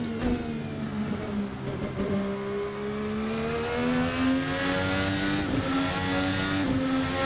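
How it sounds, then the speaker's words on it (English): A VRC Formula NA 2018 race car engine in a racing sim screams at high revs, bouncing off the rev limiter with stuttering fuel-cut pulses and pops over a steady, loud, sustained drone. "the sounds are fantastic as it's bouncing off the rev limiter there"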